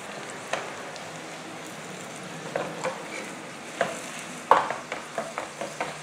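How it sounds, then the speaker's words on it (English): A corn tortilla sautéing in oil in a pan, a faint, soft sizzle with a few light taps and scrapes from handling it, growing more frequent toward the end. "just going to saute my tortilla in it"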